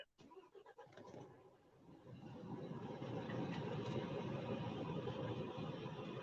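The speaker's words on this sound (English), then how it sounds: "I'm going to turn the truck on actually because it's getting a bit warm in" A truck engine is started nearby, a short cranking stutter before it catches and settles into a steady low idle rumble that grows a little louder and holds.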